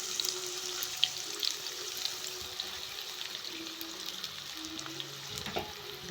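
Soaked meal maker soya chunks are rinsed and squeezed in water, giving a faint, steady sound of running water and light splashing with no talk.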